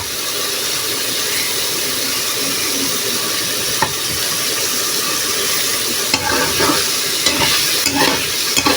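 Potatoes fry with dragon fruit peel in a pan, giving a steady, dense sizzle throughout, with occasional scraping stirs and clinks of the spatula near the end.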